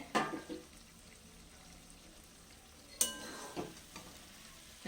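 Cauliflower in a cooking pot being gently stirred, with a few soft scraping strokes at intervals over a faint, low simmering background.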